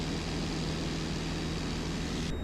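Small propeller airplane in flight near Saint Augustine Airport, engine throttled back to about 2,400 RPM, giving a steady droning hum with a low tonal buzz heard from inside the cabin, continuous with no talking.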